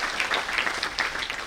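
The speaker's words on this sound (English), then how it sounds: "A big round of applause." An audience claps together at a CA students' national conference, producing a dense, fairly loud round of applause that runs steadily throughout without voices over it.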